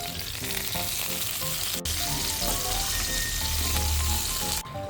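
Squid adobo bubbles and sizzles in a covered pan, a steady close crackling hiss with fine popping throughout, no voices.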